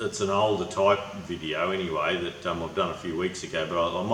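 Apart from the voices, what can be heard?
None of the usual background noises is heard.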